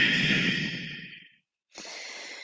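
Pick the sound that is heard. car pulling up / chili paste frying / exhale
exhale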